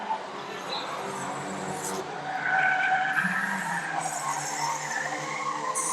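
Banger stock cars race around an evening oval track, engines roaring continuously with tyres skidding and squealing, a loud, dense wash of motor noise building midway through.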